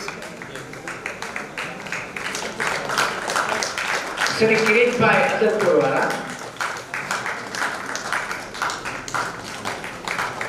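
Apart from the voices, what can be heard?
audience clapping at a temple celebration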